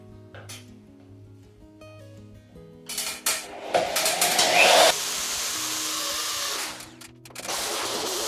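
A power drill bores holes for fitting a kitchen hood, starting with light rattles and then a loud, harsh whine that runs several seconds before settling into a steadier hum.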